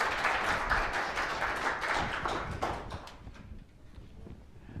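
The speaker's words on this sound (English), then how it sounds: "applause for our fine volunteers" Audience applause for volunteers during a public talk on the 2017 total solar eclipse, a burst of many hands clapping that thins out and fades to near quiet by the end.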